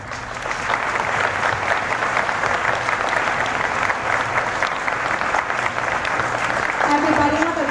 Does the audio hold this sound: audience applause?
yes